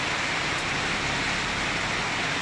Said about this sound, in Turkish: Yağmur yağınca hemen buraya kaçtık.